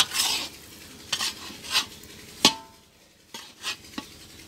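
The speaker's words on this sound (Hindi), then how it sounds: "इसको हम खूब भूनेंगे" A spoon scraping and stirring thick homemade majun as it roasts in a pan, a handful of separate clinks and scrapes with quiet gaps between them, close by and with no talking.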